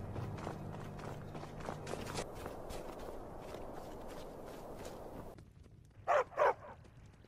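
Dogs at a house in Skyrim give two quick, sharp barks near the end, after a stretch of footsteps and shuffling movement that cuts to near silence.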